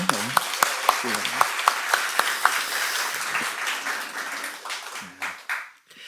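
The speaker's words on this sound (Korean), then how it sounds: "우리 다시 한번 감사의 박수" A church congregation claps in thanks during a pastor installation and ordination service, a moderate wash of applause with a few sharper claps near the start, thinning out toward the end while talk sits underneath.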